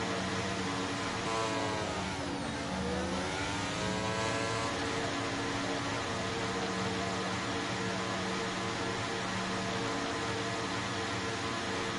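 Racing car engine in a Grand Prix video game revving at a practice start: a constant loud mechanical drone with harmonic whine sweeping up and down early on, then holding steady at high revs.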